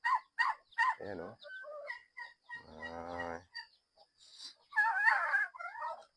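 Turkeys fight in a small backyard poultry pen, giving harsh, choppy calls and clucks with a few drawn-out cries, close and fairly faint. A person says a brief word.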